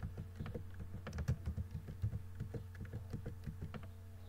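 Quick, steady keystrokes on a computer keyboard, close and fairly quiet, a run of crisp taps with no talking.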